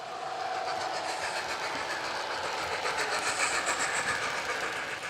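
A TT:120 scale model train runs steadily along a track with a continuous whirring rumble and faint rhythmic clicking, heard alone at a moderate distance.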